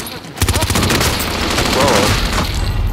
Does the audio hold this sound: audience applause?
no